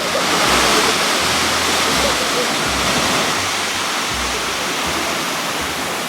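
A waterfall pours into a natural pool on the Rio Portalón in Costa Rica, making a loud, continuous hiss of rushing water with faint low voices underneath.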